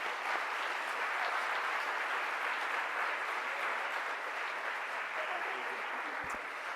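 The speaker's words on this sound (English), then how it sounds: "Please, let's offer a round of applause for Sean and Rodrigo." Audience applause for two introduced speakers at an LGBTQ Pride Month award event, with even, sustained clapping from an indoor crowd at moderate level throughout, no voices over it.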